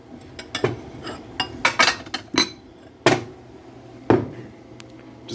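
A regular microwave-safe bowl is picked up and handled in a kitchen, with a series of close, sharp clinks and knocks of crockery against other dishes and the counter, spaced irregularly and separated by quiet gaps.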